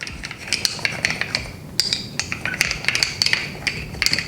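A utensil stirs carrot seed oil in a small glass jar, giving a steady run of bright clinking taps against the glass, close and distinct, with no talking.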